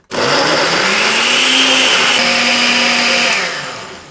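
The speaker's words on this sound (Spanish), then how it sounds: "lo vamos a meter en la batidora" A blender whirs loudly and steadily blending gazpacho vegetables, its motor pitch dipping slightly as it works through the contents, then winding down at the end.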